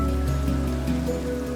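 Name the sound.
rain falling in video game Minecraft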